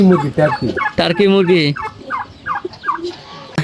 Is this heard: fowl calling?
yes